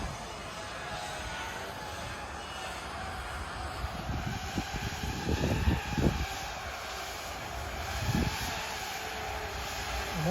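A steady mechanical drone of a large ice cream delivery drone flying overhead, loud and continuous, with some gusty rumbles and faint voices underneath.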